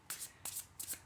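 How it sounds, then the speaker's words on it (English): A deck of tarot cards is riffle-shuffled in three quick bursts of soft papery flutter, close up and quiet, with no voices. "I'll give them another shuffle so that we can make sure that we're getting some random cards here."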